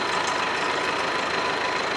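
A steady, continuous tractor engine idle with a low rumbling tone and constant loudness throughout, no voices.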